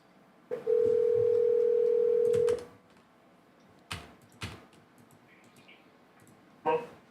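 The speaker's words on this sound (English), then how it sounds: "Let's see if we can do it the old-fashioned way and give them a call here." A landline-style phone dials out during a live trucking call-in show: a steady dial tone for about two seconds, then scattered clicks and button presses, ending with a short burst of tones, fairly quiet overall.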